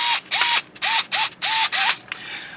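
A small electric screwdriver drives screws into the ABS plastic body of a 1/12 scale Tamiya M1025 HMMWV RC model, six close, loud whirring bursts separated by brief pauses, with a final short click.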